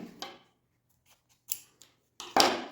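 Scissors cut fabric for a sewn makeup bag, with three separate crisp snips spaced apart and quiet gaps between them, close and clear with no talking.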